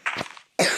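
A man coughs indoors, two separate harsh coughs close to the microphone with a short silent gap between them, alone and without speech.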